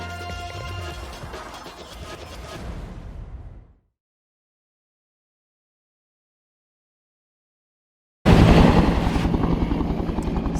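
A helicopter used in an authorities' operation on Mount Chumanchil in Tinglayan, Kalinga, drones with steady rotor noise, cuts to silence, then returns louder and closer.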